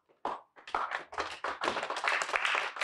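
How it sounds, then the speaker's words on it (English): Friends, family and advocates applaud in a downtown Los Angeles courthouse as a former sheriff's deputy is taken into custody; scattered claps start sparsely, then swell into dense, sustained applause. "Former LA County Sheriff's Deputy Andrew Lyons is taken behind bars to an applause on behalf of Ryan Twyman's friends, family, and advocates"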